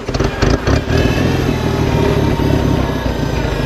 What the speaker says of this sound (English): I'll start it up here real fast for you, show you that it really starts easy.